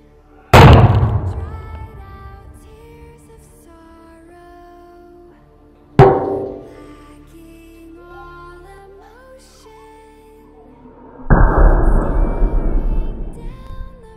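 Sharp firecracker blasts launching a cooking pot skyward go off outdoors, two loud single bangs a few seconds apart with ringing decay, followed by a sustained rushing burst near the end.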